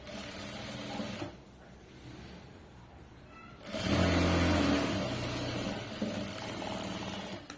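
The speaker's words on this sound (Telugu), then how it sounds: "ఎడ్జ్కి ఒక స్టిచ్ వేసుకుని" A domestic sewing machine runs a stitch along the edge of a cloth side joint, its steady mechanical whirr loud and close, broken by a brief quieter pause before it resumes and keeps stitching to the end.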